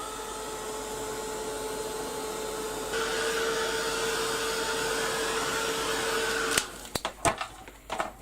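A hair dryer blows steadily at close range to dry paint on a canvas, its whoosh and whine stepping up in strength partway through before cutting off, followed by a few sharp handling clicks and knocks.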